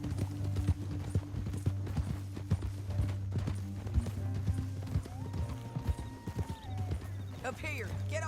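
Horse hooves clop in a quick rhythm in the video game Red Dead Redemption 2, beneath a steady engine-like hum, with brief speech near the end.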